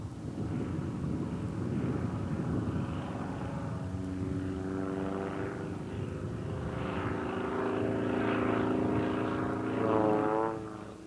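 A propeller aerobatic plane flying a competition program in poor visibility, its engine droning with rising and falling harmonic whine as it climbs and turns, mixed with wind buffeting on the microphone, loudest near the end.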